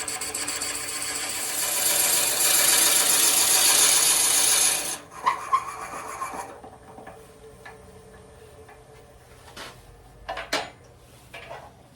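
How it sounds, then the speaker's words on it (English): Forstner bit boring into a wood candle-holder blank spinning on a lathe, a loud steady rasping grind for about five seconds, then stopping into quieter ticks and light taps. "I'm going to use a Forstner bit again, as we did in our first project, just to get things started"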